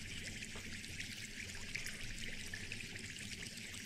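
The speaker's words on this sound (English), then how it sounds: "You notice when I got forward, there is now bubbling noise." Bubbling fish tank in a Star Citizen hangar, video game, a steady soft gurgle and trickle of water running continuously on its own, faint and even throughout.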